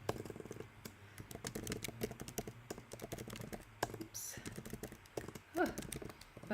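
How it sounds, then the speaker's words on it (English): Rapid, irregular keystrokes clatter on a computer keyboard in a close, quiet room for several seconds, with a brief voice near the end. "Bad at typing today."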